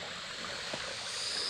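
A waterfall in a rocky stream valley in the Hong Kong hills makes a faint, steady rushing hiss from somewhere below, unbroken and even throughout, with no one speaking.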